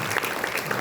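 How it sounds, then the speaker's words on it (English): A lecture audience gives a round of applause, a short, dense burst of many hands clapping evenly and fairly close, with no speech over it. "I think it was another round of applause for Vinodbhai."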